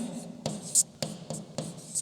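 Pen or chalk writing a chemical compound's name during a chemistry lesson, heard as several short scratchy strokes in an irregular rhythm, close and fairly faint, with no talking.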